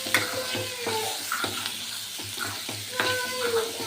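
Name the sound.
stirring potatoes frying in a pan for aloo curry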